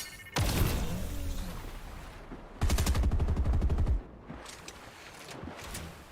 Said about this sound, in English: Lots of bullets coming out trying to take care of these builds